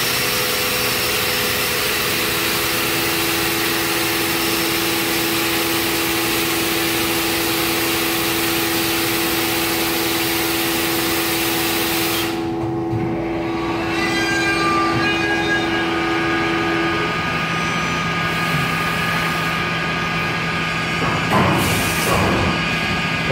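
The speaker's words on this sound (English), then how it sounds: "I turn the air blast on just to clear off some of the chips because we're not using coolant." A Mori Seiki CNC machine runs dry with no coolant while its air blast clears chips. A loud, steady hiss and whine with hum tones continues, then drops away abruptly about halfway through, leaving quieter machine noise.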